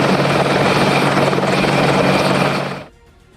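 An Apache attack helicopter flies by with a loud, steady rotor roar that cuts off abruptly near the end.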